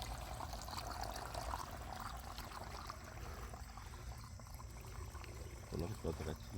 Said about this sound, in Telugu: ఇంత వాటరు కప్లింగ్ అంత ఉండగా కూడా ఇన్ని వాటర్ బయటకు వస్తూ ఉన్నాయి